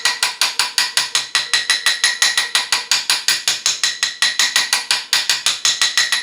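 Rapid, evenly spaced metallic hammer blows flattening the end of a small metal axle shaft held tight in vice grips, dozens of sharp ringing strikes in steady rhythm, close and alone.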